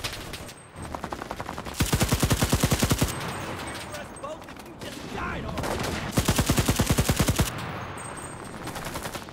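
Automatic AK rifle fire in a World War II video game, several rapid bursts of loud, evenly spaced shots separated by quieter gaps with background game noise.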